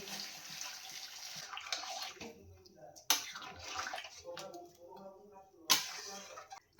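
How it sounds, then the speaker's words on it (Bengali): Warm water is poured into a pan of chicken curry, giving a steady close splashing gush that runs for several seconds. Two sharp knocks break in partway through, and quieter background sounds continue alongside it. "দেখো জলটাকে আমি এবার এর মধ্যে দিয়ে দিচ্ছি"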